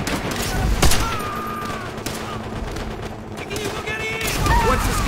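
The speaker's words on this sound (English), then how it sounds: "We're pinned down by the MG fire from the second floor!" Machine gun fire rattles through a Call of Duty: World at War battle, with loud continuous bursts and booms layered over dense combat noise and shouted voices throughout.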